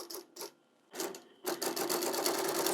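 A longarm quilting machine stitching through a quilt top and batting, a rapid mechanical whirring that runs in short bursts, then settles into a steady, loud run close by.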